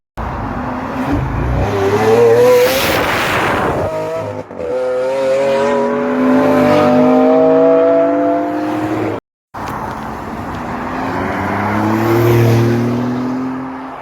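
An Audi RS3 drives past loudly, its engine note rising through the gears with a steady, harmonic revving tone, then a brief dropout before the rasp continues as the car pulls away.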